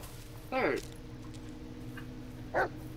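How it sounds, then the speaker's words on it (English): Two short barks from a dog in the Blair Witch video game, the first near 0.6 s and the second near 2.6 s, standing out over a steady low background hum. "Where is the dog? There's the dog."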